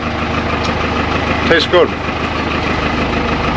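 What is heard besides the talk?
tractor engine running a power takeoff pump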